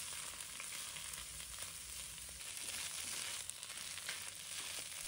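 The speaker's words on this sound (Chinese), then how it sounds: "继续的炒， 把白菜炒至断生，再把米粉放入锅中，我们把它炒均匀" Cabbage and rice noodles are stir-fried together in a wok. A steady, fairly quiet sizzle hisses throughout, with faint scraping and tossing now and then and no voices.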